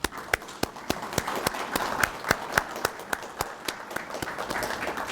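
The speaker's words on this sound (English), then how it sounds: "give the SMTC staff a round of applause, please" Staff at a military change of responsibility ceremony receive a round of applause: crisp, evenly spaced claps in a steady rhythm, fairly close and moderate in volume, with no talk over them.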